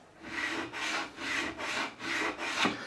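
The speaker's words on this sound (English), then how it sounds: "once we've gone across with the Z file, we'll finish off with the profiling file" A Z file levelling the frets on a relic-finished Telecaster guitar, five even back-and-forth rasping strokes of metal on fretwire, close and clear with no talk.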